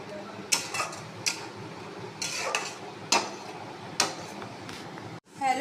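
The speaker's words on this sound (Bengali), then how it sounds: "এই মশলাটাকে প্রায় 5 মিনিট ধরে কষাতে হবে।" Masala sautéed in a pan for chicken curry, with repeated clinks and scrapes of a spoon against metal over a soft sizzle, close by, ending in a brief drop to near silence.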